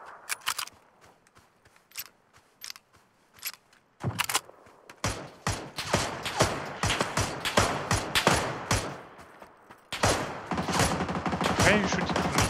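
Gunfire in a video game, bursts of sharp shots in quick succession, sparse at first and then dense and rapid, close and loud, with a brief lull before a final busy burst.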